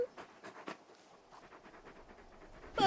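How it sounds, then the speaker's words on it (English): Torgal, the large dog from Final Fantasy XVI, pants in a soft, quick rhythm of short breaths, close but faint, with a louder clatter at the very end. "You're just a big puppy, aren't you?"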